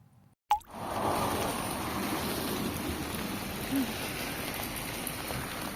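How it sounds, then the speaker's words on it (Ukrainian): Steady rain patters continuously on surfaces after a brief sharp click at the start, a soft even hiss with occasional drops. "Дощик піде."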